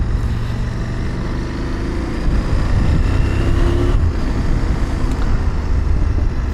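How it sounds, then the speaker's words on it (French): A CFMOTO 1000 MTX motorcycle idles and putters at low revs, its exhaust giving a steady, close, fairly loud low rumble with a slight rise in the middle, no voices over it. "le son de la moto à bas régime est plutôt plaisant, j'entends quand même l'échappement"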